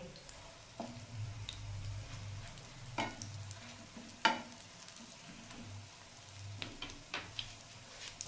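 Fish kababs fry quietly in a pan with a low, steady sizzle, broken by a few sharp clicks and scrapes as they are gently turned and stirred.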